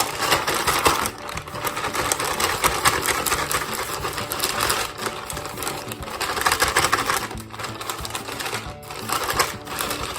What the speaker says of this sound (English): now we're gonna close the bag and shake it up